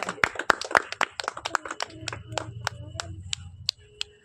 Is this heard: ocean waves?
no